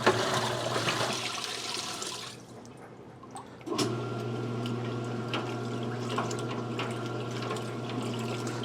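A vacuum cleaner bag being washed: water churns and sloshes loudly for several seconds, drops briefly, then resumes with a steady mechanical hum beneath the turbulent swishing.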